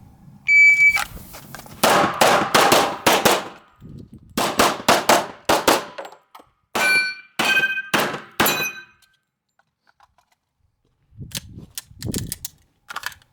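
Pistol gunshots during a 3-gun practice drill, fired in fast strings of four to six sharp cracks with pauses between groups, some ringing metallic hits, and a final quieter string after a silent gap.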